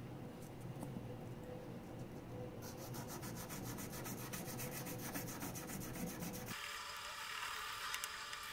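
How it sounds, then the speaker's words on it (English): A small MGN12 linear rail carriage is hand-sanded with 1000 grit sandpaper to remove discoloration, giving close, steady rubbing and scraping strokes that shift in tone partway through, with no talking. "I am going to use the 1000 grit sandpaper to remove the discoloration."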